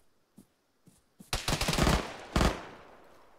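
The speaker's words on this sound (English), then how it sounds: "Some kind of heavy gun shot still from that window." Heavy gunfire in the Arma military video game: a few faint single shots, then a rapid, dense burst of automatic fire and one last sharp volley, somewhat distant.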